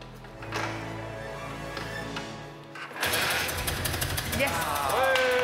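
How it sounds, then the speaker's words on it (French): A kick-started motorcycle engine kicks into life partway through, then runs with a rough, steady rumble and revving, after quieter noises and handling sounds before it starts. "il n'y a pas moyen d'écouter le moteur de cette moto?"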